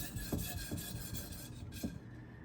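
A kitchen knife is drawn across a 2K whetstone in short, rhythmic rasping strokes, close and fairly quiet, with a few distinct scrapes standing out.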